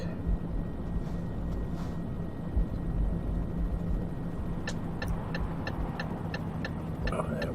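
In the video game Euro Truck Simulator 2, a steady low engine rumble drones throughout as a helicopter passes overhead, with a series of quick clicking ticks near the end.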